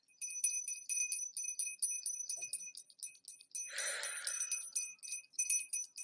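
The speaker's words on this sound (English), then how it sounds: "Just ring the bell for service and to chase out any negative energy that hates this lovely sound." A service bell, rung for service, gives a series of bright, tinkling rings in a steady repeated rhythm. The rings are close and fairly loud, and a brief burst of other noise cuts across them midway.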